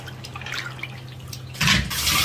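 White lotus seeds being rinsed in water, with soft drips and a low trickle that give way to a louder splashing rush of water near the end, close by and without talk.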